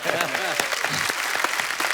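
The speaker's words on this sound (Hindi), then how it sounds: "तालियां और जोर से होनी चाहिए जरा," Audience applause in a Hindi comedy talk-show studio, brisk continuous clapping with a voice speaking over the start, fairly loud and close.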